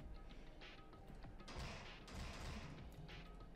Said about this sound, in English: it's definitely somebody banging, right?